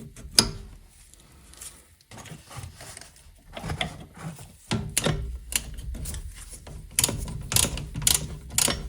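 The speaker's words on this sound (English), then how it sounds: "unscrewing the bolt securing the caliper to the bracket" A hand ratchet clicks in quick, uneven bursts as it undoes the bolt holding a rear brake caliper to its bracket on a VAG car, heard close with faint metallic knocks between strokes.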